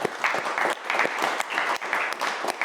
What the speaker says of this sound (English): Let's have another round of applause for Heidi.